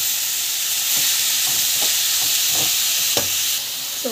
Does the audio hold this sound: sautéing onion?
yes